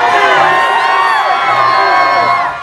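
A huge Mardi Gras parade crowd in Louisiana shouts and cheers loud and near, overlapping whoops and cries including children's voices, slowly fading at the end.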